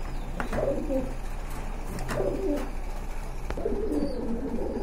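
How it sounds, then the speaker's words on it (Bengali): Red checker pigeons coo softly in a few low, throaty bursts over a steady background hum, with occasional faint clicks. "আরেক জোড়া কবুতর দেখতে পাচ্ছেন"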